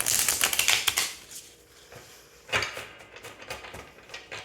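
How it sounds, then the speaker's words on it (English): A tarot card deck being riffle-shuffled by hand, a quick burst of crisp flapping card clicks, then a pause and a second riffle with scattered taps as the cards are pushed back together, close and alone. "I'm just going to flip it because I like to shuffle them a bit both ways"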